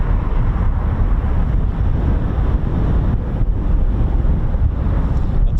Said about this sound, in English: The KC-135's beautiful engines there now.